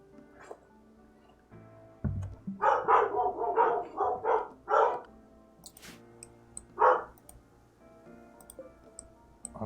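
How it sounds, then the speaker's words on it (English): Dogs bark nearby in a quick run of sharp barks, followed by a pause and then one more bark, over a quiet indoor background. "Sorry about the dogs, folks. I don't think they're gonna stop anytime soon."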